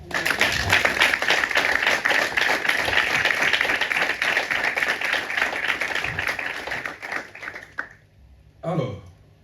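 A church congregation claps and cheers together in sustained applause that gradually fades, with voices mixed in and a short spoken word at the end.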